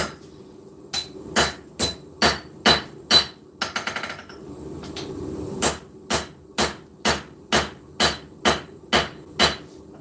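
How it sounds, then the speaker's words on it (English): Hammer planishing a forged integral bolster knife at the anvil: a steady run of sharp, ringing metal strikes, about two per second, close and loud, with a brief pause and a quicker flurry of lighter taps midway. "A little bit of planishing, which really isn't necessary, but it is what it is."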